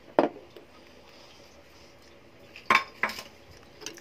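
Greens, onion and spices are stirred in a pot, with a few sharp metallic clanks of a utensil against the pot's side, spaced apart over quiet background. No talking.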